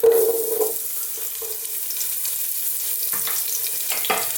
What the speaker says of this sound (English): Now, in goes our onions